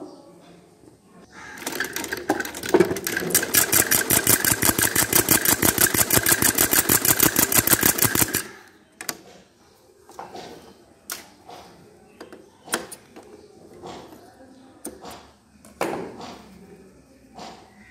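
A sewing machine stitches trouser fabric in a steady, fast mechanical run of about six seconds, with a rapid needle rhythm. Quieter clicks and fabric handling follow once it stops.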